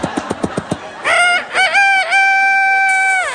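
A voice imitates a bantam rooster: a quick series of sharp flapping taps, then a loud, close, drawn-out crow with rising and held notes.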